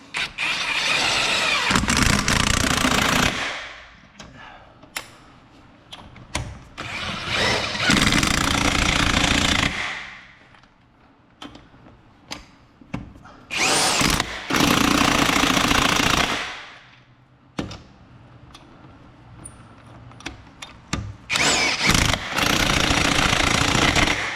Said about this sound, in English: now that we've got them on there with the impact